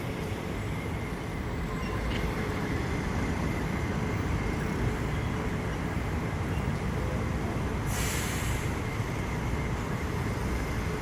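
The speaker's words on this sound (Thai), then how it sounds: "นี่มีรถไฟฟ้ามาหนึ่งขบวนนะครับ" A steady, loud rumbling roar of a passing elevated electric train fills the whole stretch, with constant wheel and motor noise and a brief hiss near the end, at Victory Monument in Bangkok.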